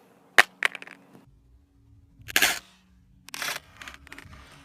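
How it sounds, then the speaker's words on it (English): A Samsung Galaxy S6 Edge smartphone is dropped face down onto its rear glass, giving sharp cracking impacts with a few quick bounces, then a second clattering hit and a rattling settle, loud and close with no talking. "I'm going to try and drop it face down, see if it would crack"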